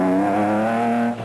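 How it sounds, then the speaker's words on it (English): A Toyota Hilux rally truck's engine revs hard and steady, a loud, close, sustained roar with a slight pitch drop as the car sweeps past near the end. "Their Hilux was looking and sounding great."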